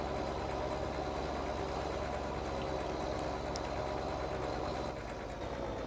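Tractor engine in the video game Farming Simulator 2013, a steady low drone with a continuous idling rumble that holds at the same loudness throughout, with no talking.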